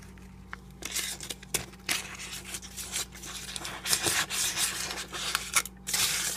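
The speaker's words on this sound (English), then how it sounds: "I take a little bit of grease, shortening, whatever, and then I just rub the tops" Fingers rubbing shortening onto the tops of white bread rolls, producing close, irregular soft rubbing and brushing strokes in short bursts.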